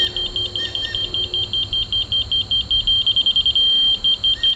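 A Spectra HL700 rotary laser receiver beeps rapidly in steady short pulses, high-pitched and close, briefly turning into a continuous tone before the pulses resume.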